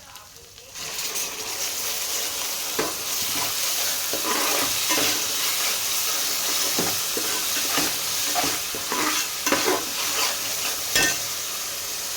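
Browned onion paste with ground ginger, garlic, coriander, clove, cinnamon, cardamom and bay leaf masala fries in a pan for a mutton bones curry, a continuous close sizzle broken by repeated stirring scrapes.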